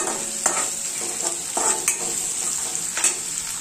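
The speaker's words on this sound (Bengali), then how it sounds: "আমি পেঁয়াজটা এর ভালো করে ভাজা করি" Onion frying with cumin in a pan hisses steadily while a spoon stirs it, with several sharp scraping strokes against the pan at an uneven pace.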